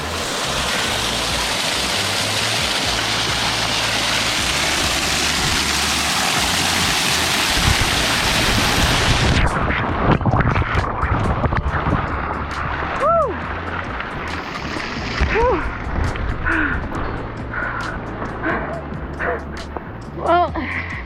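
Rushing water roars loud and close at a waterfall crossing on a Glacier National Park trail, a steady broadband wash that continues as footsteps splash through and a voice chirps over it.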